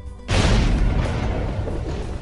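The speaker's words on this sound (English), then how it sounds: "an explosion occurred" Explosion on a ship's forecastle as the anchor cable is being raised: a sudden loud boom erupts after a brief quiet moment, then a sustained roaring rumble continues at high level.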